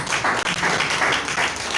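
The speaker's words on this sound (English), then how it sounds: "I think we deserve a round of applause" A short burst of applause, fairly faint and steady, with a crowd clapping together for under two seconds.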